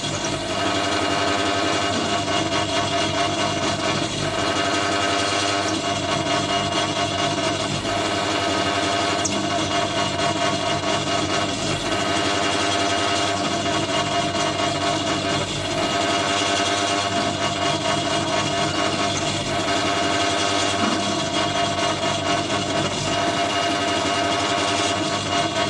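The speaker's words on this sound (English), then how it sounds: "We're really going to drill out the threads." A drill bores out the threads of a broken bolt in a Mountfield lawn mower part, with water used as lubricant, giving a steady, continuous mechanical whine that runs loud and unbroken throughout.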